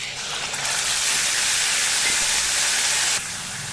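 Tomato puree hitting hot oil in a pan while cooking paneer masala, a loud, sustained sizzling hiss that swells in and then drops off near the end, close by with no talk.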